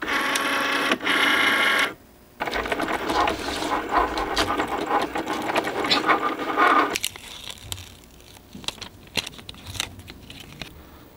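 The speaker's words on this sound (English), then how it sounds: "So make sure to change the settings on your Cricut to vinyl settings. And then cut." A Cricut machine cuts vinyl with a steady mechanical whirring and scraping that breaks off briefly near two seconds, then resumes as a ragged, busier run of small clicks before thinning out. It is heard close by, and nobody speaks.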